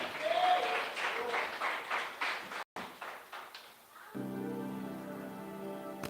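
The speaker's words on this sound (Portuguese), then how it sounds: "aplauda ao Senhor" Congregation in a church service applauds, a few seconds of fading clapping that stops abruptly, followed by a sustained keyboard or organ chord.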